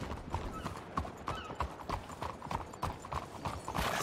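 Steady clip-clop of horse hooves trotting at a moderate pace, fairly close, with a brief whinny among the hoofbeats.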